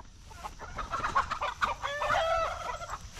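A rooster and a hen named Maggie scuffle on a homestead, with loud, busy clucking and squawking bursts running continuously close by, no talk over it.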